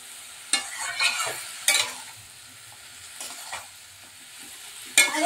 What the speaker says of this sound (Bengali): তো দেখো এখানে বসিয়ে দিয়েছি পালং শাকের তরকারি